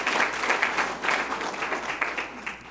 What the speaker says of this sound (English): I will take that applause